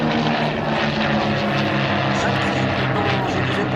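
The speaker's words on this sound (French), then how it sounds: "c'est lui qui est en démonstration de cet avion formidable, le Mosquito" A de Havilland Mosquito piston-engined aircraft flies a display at the Pontoise air show, its loud, steady propeller drone filling the whole stretch as it passes close overhead.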